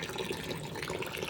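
Water runs steadily at a farm, a continuous splashing rush that holds even and close for the whole short moment with no voices over it.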